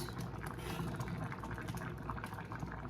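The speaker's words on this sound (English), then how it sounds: "this has been bubbling away" Vegan Caribbean-style stewed peas simmering in a pot on a cooker, giving a steady, dense bubbling and gurgling that holds continuously close by with no talk over it.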